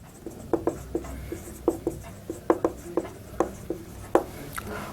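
Pen scratching on paper as a heading is written out for a bank reconciliation statement exercise, with about a dozen crisp strokes and taps at an uneven pace, close by and alone with no talk.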